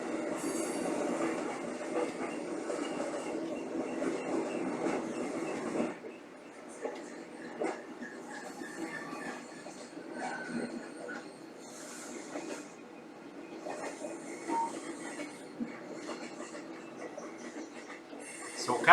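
A train passes with a continuous rumble and squealing wheels, loud at first and then fading to a fainter rolling sound with occasional screeches, heard from nearby.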